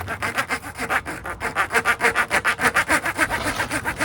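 A hand hacksaw cuts through a vinyl piece in quick, rhythmic back-and-forth strokes, each rasping pass close and clear, with no talking.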